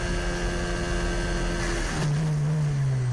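A Renault Formula 1 engine heard onboard Hulkenberg's car holds a steady high whine, then abruptly changes into a lower, harsher droning tone as the engine fails about two seconds in.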